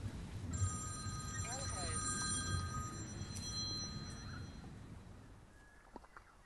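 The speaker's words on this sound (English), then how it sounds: "when the telephone rang" A telephone rings outdoors on a hillside, its bright electronic tones sounding a few times at moderate distance over faint background noise, then fading out.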